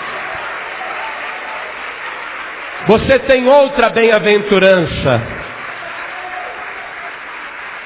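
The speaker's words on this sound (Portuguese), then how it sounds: "Vamos aplaudir bastante o Senhor Jesus." A church congregation breaks into a short burst of applause lasting about two seconds, loud and close, with a preacher speaking in Portuguese before and after.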